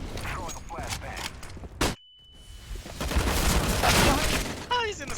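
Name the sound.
flashbang grenade thrown, from a video game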